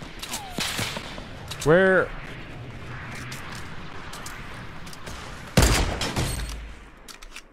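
Gunfire in a Fortnite match, including a revolver: a loud burst of shots near the start and another heavy volley near the end, with a steady game backdrop and players talking over it.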